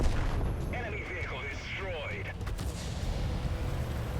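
Sherman Firefly tank main gun firing in World of Tanks, a game cannon shot heard under a constant low rumble with a descending whistling tone, while someone talks over it.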